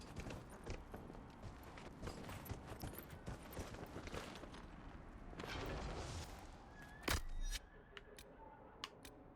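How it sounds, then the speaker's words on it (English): Horse hooves clip-clop in the video game Dragon Age: Inquisition, a quick irregular patter of soft knocks running throughout at moderate distance, with a sharper burst of sound near the end. "now I can call my horse from wherever I am"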